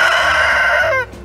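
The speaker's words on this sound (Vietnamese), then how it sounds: "cái này là gà" A rooster on a farm in the United States crows loudly and close up, one long sustained cock-a-doodle-doo call that cuts off sharply near the end.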